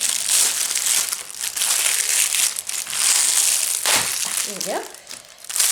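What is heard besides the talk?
unwrapping a taped craft package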